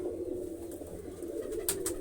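Flying pigeons perched up on a rooftop loft give a steady, low cooing hum, fairly close and unbroken, with a couple of brief higher sounds near the end.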